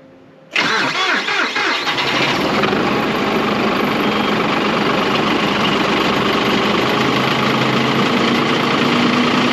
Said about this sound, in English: we'll get the old tractor here fired up and get her warming up.